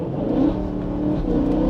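A car fitted with Evolve by Bilstein B6 EDC dampers drives along a fast road, its mid-pitched engine humming steadily and swelling briefly as it accelerates, heard close from inside.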